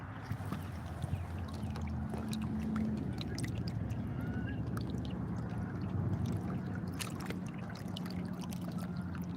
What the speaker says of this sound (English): You hear that water? You hear the water?